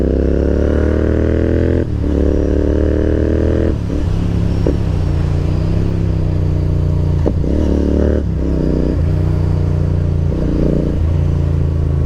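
A 650 cc motorcycle with a Rooster exhaust runs loud and close, its deep exhaust rumble holding steady with a few brief revs and shifts in pitch.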